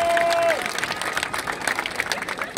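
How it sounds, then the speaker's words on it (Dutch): A crowd at the Ajax open day applauds defender Per Schuurs, with steady clapping and cheering throughout and a brief whistle-like tone at the start. "Geef een grote applaus, dankjewel"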